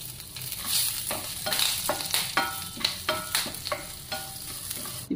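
Spices and dals fry in oil over a slow flame, with curry leaves and asafoetida added, steady close sizzling broken by repeated stirring clatters of a spoon in the pan.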